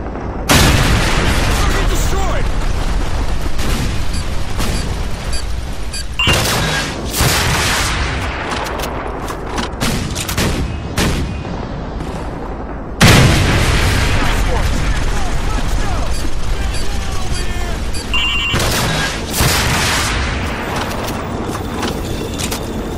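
A video game battle rages with loud, dense gunfire and heavy booming explosions in near-continuous bursts, some sharp blasts standing out, with voices shouting over the combat.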